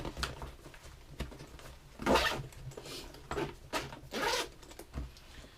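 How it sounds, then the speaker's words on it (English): A Plano 466331 Guide Series tackle bag is zipped closed in several rasping pulls of varying length, close up and fairly quiet, with a light rustle of fabric between strokes. "Zip it up."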